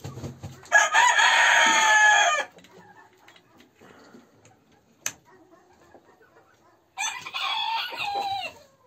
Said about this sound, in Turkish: Evet arkadaşlar, bu horozumuz.